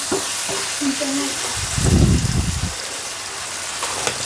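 Meat for a village curry fries in hot oil, a steady hiss that swells briefly midway as it is stirred, with a voice faintly under it.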